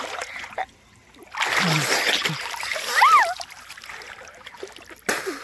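Sea water splashes and rushes in broad bursts as people bathe along the shore, with voices talking and calling out over the wash.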